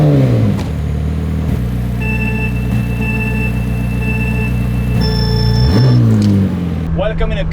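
A McLaren 750S sports car engine revs while driving, rising and falling in loud sweeps at the start and end around a steady, tonal mechanical drone.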